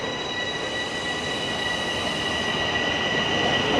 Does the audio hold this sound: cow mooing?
no